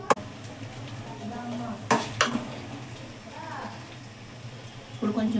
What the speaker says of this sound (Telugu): ఇప్పుడు వీటితో పాటు ఫ్రై అవుతుంది ఈ రొయ్యలు